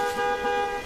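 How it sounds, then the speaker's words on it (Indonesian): A car horn gives one short, steady honk, sounding alone at moderate volume. "Mamang Botak mendengar suara klakson mobil"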